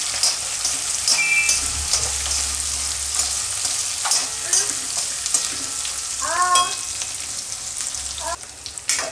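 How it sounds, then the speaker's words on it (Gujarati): Green and red chillies and spices cook in oil for instant mango pickle, giving a continuous hissing sizzle with occasional stirring and faint chirping sounds in the background. "આ બધું આપણે તેલમાં થોડીક વાર પાકવા દેવું"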